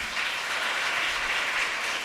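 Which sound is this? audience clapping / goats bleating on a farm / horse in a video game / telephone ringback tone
audience clapping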